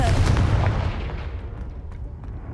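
A fire-blast spell exploding in Hogwarts Legacy, a heavy booming burst up close that rumbles and then decays into a fading tail over about two seconds.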